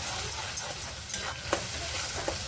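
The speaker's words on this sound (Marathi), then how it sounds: "आणि याला तेल सुटेपर्यंत आपण असं हलवत राहायचं" Red chili powder masala frying in oil in a pan as a fish curry base, stirred steadily: a continuous close sizzle with soft scraping strokes and a few sharper clinks of the spoon against the pan.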